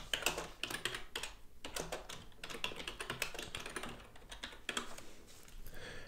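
Rapid typing on a computer keyboard while entering a name, dense clusters of close, crisp key clicks running steadily for about six seconds with a brief pause in the middle.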